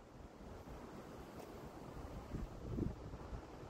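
Large rollers break onto a beach on a blowy easterly day, a soft continuous wash of surf mixed with wind buffeting the microphone, swelling slightly toward the end.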